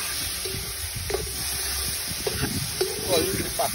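Pacro (a shellfish gathered from rocks in Trinidad) sizzles in a hot pan with soft stirring and scraping noises, close by, as a voice talks briefly over it.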